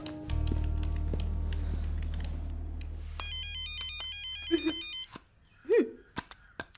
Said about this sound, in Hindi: बार बार किसका कॉल आ रहा है?